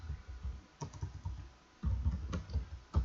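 Keys on a computer keyboard are typed in quick, irregular bursts, close and moderately loud, with short pauses between clusters of strokes and no voice over them.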